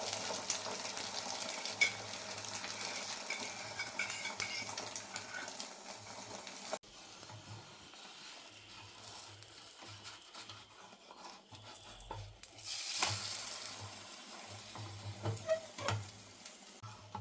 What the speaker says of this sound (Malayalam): നമുക്കതിലേക്ക് മുട്ട ഒഴിച്ചു കൊടുക്കാം.